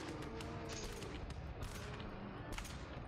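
Shotgun fire in the GTFO survival horror shooter, a quick series of sharp blasts in rapid bursts, fairly quiet overall in the mix and with no voices.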